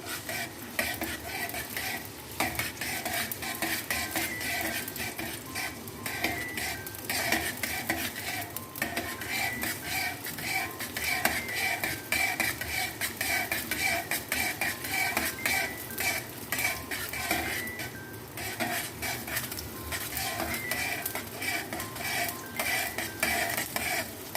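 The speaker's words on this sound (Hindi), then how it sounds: "प्याज को हम करेंगे सोटे।" Onions are sautéed in hot oil and stirred in a pan for restaurant-style beef white keema, with a continuous sizzle under constant scraping and clattering of a utensil against the pan, no voices.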